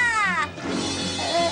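A cartoon cat lets out a loud, close meow with a falling pitch, then a shorter whiny meow follows after a brief pause.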